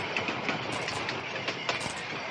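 A moving rail car in the video game Heaven Dust 2, rolling with a steady rumbling drone and faint, irregular clickety-clack knocks from the wheels, moderately loud and without talk.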